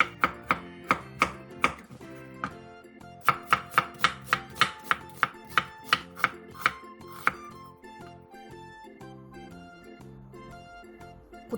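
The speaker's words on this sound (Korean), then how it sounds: "오이 2분의 1개를 길게 반으로 갈라 어슷 썰고" A knife cutting cucumber and onion on a cutting board, with sharp, rhythmic chopping strikes that come in quick regular runs and then taper off into sparser, lighter taps.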